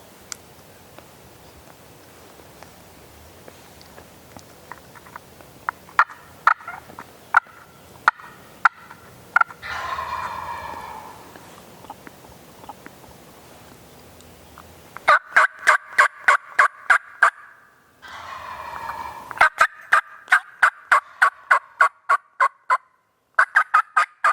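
During a turkey hunt in North Florida, sharp rhythmic clucks and yelps repeat in bursts, with several louder gobble-like rattling calls in between, mostly fairly close against a quiet outdoor background.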